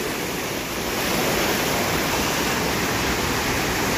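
Steady rushing roar of cold mountain river water near a large waterfall at Arslanbob, a loud, broadband wash continuing without pause, with no distinct splashes of wading standing out.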